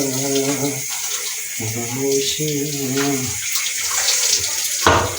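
Dishes are washed under a running tap, a steady hiss of water running throughout beneath a melodic voice singing or humming in the foreground.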